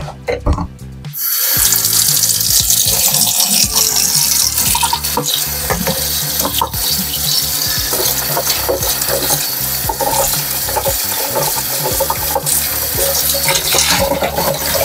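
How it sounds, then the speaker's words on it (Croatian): Running tap water pours steadily and loudly for several seconds into a film developing tank, rinsing black-and-white film, a continuous rushing splash with slight gurgling variations. "ponovo ispiranje filma pod vodu"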